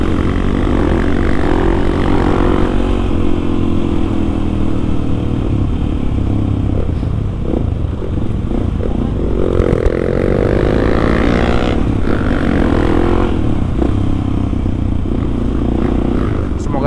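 A supermoto motorcycle engine roars loudly and steadily close by at half throttle, its pitch rising and falling as the throttle changes.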